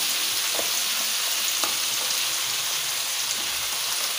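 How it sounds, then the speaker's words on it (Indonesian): Washed shrimp fry in a hot pan with a dense, steady, close sizzle, a continuous bright hiss dotted with faint pops and no voices. "Kita masukkan udangnya yang udah dicuci tadi."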